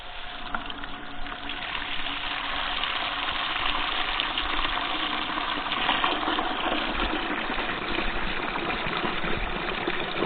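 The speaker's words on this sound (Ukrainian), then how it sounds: "глянемо скважинка, видає водичку на старті" Water gushing from a newly drilled 15-metre borehole, a steady loud rushing flow with a pump-like drone underneath, continuous and close throughout.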